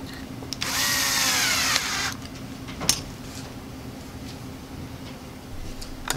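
A power drill drives a single fastener into a backer board on a shaper sled jig: one loud whirring burst of about a second and a half rising in pitch, then a sharp click and quiet handling noises.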